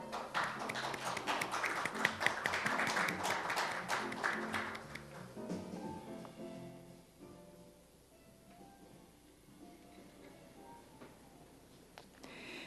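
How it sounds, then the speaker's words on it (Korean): An audience at the opening ceremony of a cultural strategy forum claps in a dense patter to welcome a ballet company director to the stage. The applause is loud for about five seconds, then thins and fades into quieter room sound. "여러분 큰 박수 부탁드립니다."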